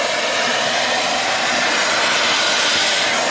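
A vacuum cleaner sucks debris out of a Tesla Model X during a 12-volt battery replacement, giving a loud, steady, close whooshing roar that holds without a break and has no talking over it.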